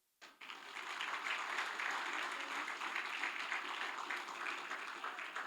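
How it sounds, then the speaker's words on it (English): A hall full of people at a bar admission ceremony breaks into dense, steady applause after a brief silence, holding loud and even to the end. "I would like to request for a huge round of applause."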